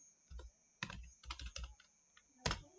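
Keystrokes on a computer keyboard, with a handful of separate clacks and short clusters and one final firm press of the enter key, recorded close and fairly quiet with no talking.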